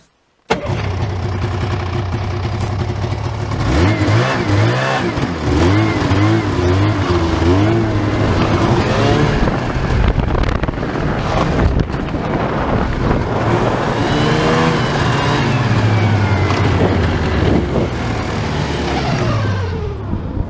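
A vehicle engine in the taiga revving hard while hauling a sled over snow toward a river, a loud, steady mid-pitched drone with rising and falling throttle surges, voices calling out intermittently.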